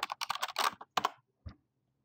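Computer keyboard keys pressed for software shortcuts, a quick burst of several close, crisp clicks followed by two separate single presses after short pauses, with no voice.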